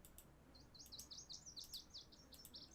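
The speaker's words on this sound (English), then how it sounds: "there's the birds tweeting in the background as well." Small birds tweet in the background of the Project Zomboid video game, giving a string of quick high chirps in irregular bursts. They sound moderately faint against a steady ambient hush.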